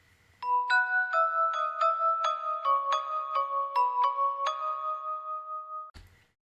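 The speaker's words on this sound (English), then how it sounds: "These bells, I have these like bells just playing in the background" Bell tones ring in the background of a song, a bright chiming melody of evenly spaced struck notes that sustain and overlap for about five seconds, then cut off abruptly.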